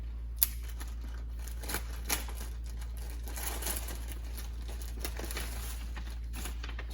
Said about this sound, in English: we're gonna go ahead and unwrap everything